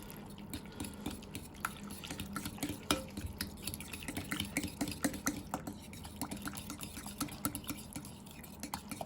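Sushi rice mixed with sesame oil is stirred in a bowl, giving faint, soft wet clicks and drips that recur irregularly at low level with no talk over them.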